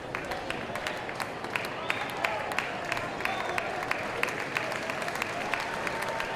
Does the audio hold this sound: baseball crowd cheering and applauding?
yes